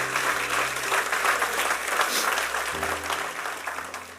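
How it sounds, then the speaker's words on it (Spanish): Church congregation applauding during a worship service, a sustained full burst of many hands clapping, moderately loud, with a low held tone underneath and no speech over it. "Dale un aplauso a Dios."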